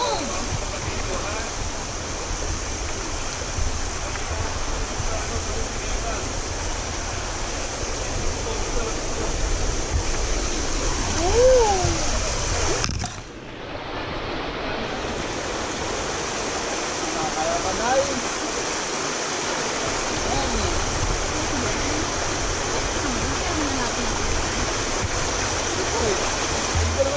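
Water rushes continuously with a broad, steady roar, a cold river flowing close by near a waterfall in Bulacan, with a brief dip partway through.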